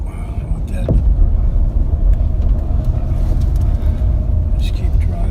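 A car drives steadily along a burning trail with a loud, continuous engine rumble and road noise, close and dense throughout, with a brief rising whine near the start.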